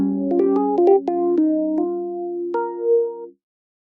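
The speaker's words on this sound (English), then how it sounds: "I'll be using Logic's electric piano plugin." Logic's 200A electric piano plugin plays a slow chord progression, sustained mellow chords changing every half second or so and ringing out alone before stopping cleanly.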